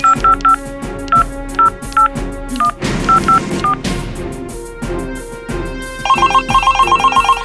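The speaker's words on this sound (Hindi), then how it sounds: "तू उन्हें फोन लगा और अभी बात कर।" Telephone keypad tones beep in quick short bursts, a series of dialing tones over a busy backdrop, ending with a rapid repeating ring signal.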